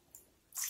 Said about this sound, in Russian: Давай переливать водичку, переливать.